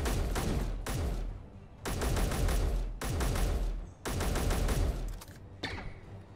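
Standard rifle fire in Space Engineers comes in repeated loud bursts of rapid shots, about five clusters separated by short pauses, sharp and close.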